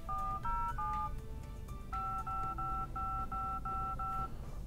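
Touch-tone dialing beeps from a Dell Streak phone keypad, a run of about a dozen distinct tones, each held briefly, several repeating identically in an even rhythm, clear and close over a low background hum.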